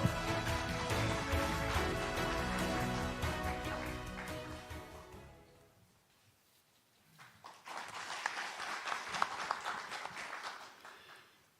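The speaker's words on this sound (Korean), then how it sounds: "박수 부탁드리겠습니다." Applause for candidate Hong Young-pyo at a party leadership campaign speech in the Busan, Ulsan and Gyeongnam region. Music plays loudly first, fades to near quiet, then a steady burst of clapping rises and holds to the end.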